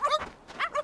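Husky puppies give a quick pair of high yips and small barks, close and clear, with a short pause between them.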